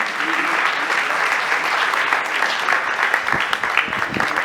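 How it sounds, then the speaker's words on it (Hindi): Loud, sustained applause from an audience at an award ceremony honouring Sonu Nigam, a dense, even roar of many clapping hands throughout. "हम सभी हमारी जोरदार तालियों के साथ इस बात का अभिनंदन करें"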